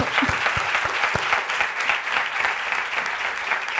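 A live audience at a Spanish-language pop interview broadcast breaks into applause, with sustained, even clapping at moderate distance carrying through the whole stretch.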